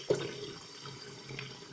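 Tap water runs steadily into a container being filled to the one-litre mark, a faint soft trickle with a brief splash at the start.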